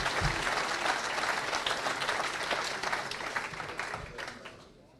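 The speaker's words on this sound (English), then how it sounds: "Please give you a round of applause, a warm welcome" Audience applause welcoming a presenter at the WRTC opening ceremony, a steady burst of clapping from a full room that holds for several seconds and then fades slightly toward the end.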